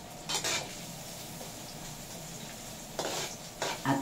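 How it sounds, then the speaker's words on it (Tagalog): Garlic being sautéed in a pan gives a soft, steady sizzle, with a few sharp clinks and scrapes of a spatula against the pan at the start and end, close and without talk. "Magigisa muna tayo ng bawang."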